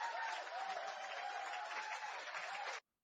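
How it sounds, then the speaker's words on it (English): Applause on a podcast set, a steady burst of hand clapping lasting a few seconds at fairly low level before stopping abruptly, with no talk over it. "I'm going to give him a hand clap."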